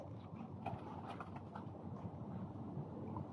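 Pigeons coo in a steady, low murmur that runs through the whole stretch, fairly close and continuous, with no voices over it.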